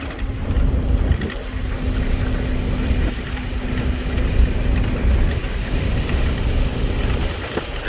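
A car drives on a slick, wet track on tires not meant for rain, a loud, steady rumble of engine and road noise with a faint tonal hum running underneath.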